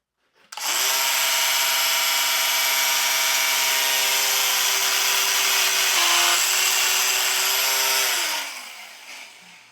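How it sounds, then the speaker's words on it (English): An angle grinder cuts through a part during repair work on a John Deere 650G dozer, a loud, steady high-pitched whine running for about eight seconds with a brief dip in pitch midway before spinning down. "I think I'm just going to cut this with the grinder."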